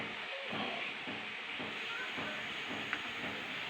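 Pot of wild mushroom and vegetable soup simmering: a steady broadband hiss and bubbling rumble with faint pops, constant and close, no talk.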